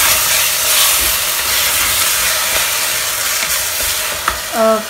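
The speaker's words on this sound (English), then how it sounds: "Now I'm going to add these tomatoes. Stir it properly." Browned onions and freshly added tomatoes sizzle and hiss steadily in a pan over medium-high heat, with scraping stir strokes and a brief clink near the end, heard up close with no speech.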